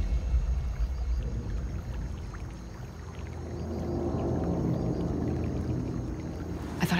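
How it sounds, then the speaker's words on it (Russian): Near water on the Island of the Dolls, a low watery rumble and gentle sloshing build over several seconds before a single abrupt splash near the end, with no one talking. "Похоже на всплеск, но я ничего не увидела."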